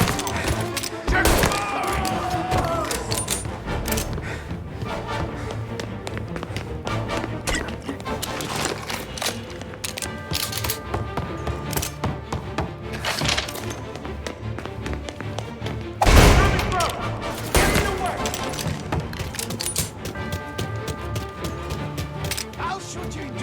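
Gunfire in a Mafia Remake shootout mission: sharp, irregular shots and thumps that crack out repeatedly across the scene, one heavy burst near the middle, with voices shouting over the fighting.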